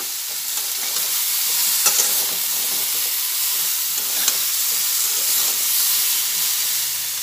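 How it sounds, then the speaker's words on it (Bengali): Mixed vegetables fry in a pan with a loud, steady, close hiss of hot oil and steam, broken by occasional light scrapes as they are turned. "সবজিগুলো দেওয়ার পরে ভালোভাবে সব সবজিগুলো আমি ভেজে নিচ্ছি"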